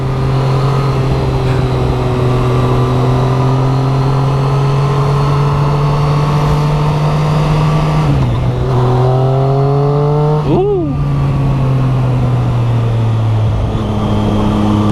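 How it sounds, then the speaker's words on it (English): A Triumph Street Triple 675R motorcycle engine drones loudly and steadily while riding on a quiet lakeside road, then briefly drops and rises again as the throttle is blipped, close with wind rush. "The throttle response on this bike is money."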